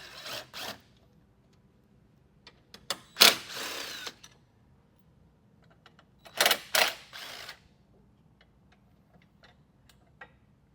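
A ratchet wrench loosens the battery hold-down on a 2017 Chevy Malibu: short bursts of rapid, close metallic clicking separated by quiet pauses, with faint scattered ticks in between.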